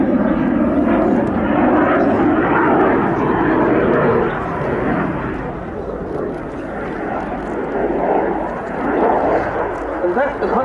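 A Sukhoi Su-27 Flanker with twin Saturn AL31F turbofans roars through a sunset air display at RIAT 2018, loud continuous jet thunder that surges and dips slightly while a commentator talks over it.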